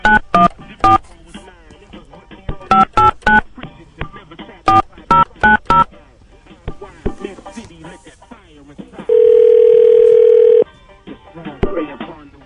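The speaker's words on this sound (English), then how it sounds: "let me go ahead and see if we can get Mr. Goodman on the phone." Telephone keypad tones beep in quick clusters as a number is dialed to call a guest, followed by a steady ringback tone, with some talk and faint background sounds in between.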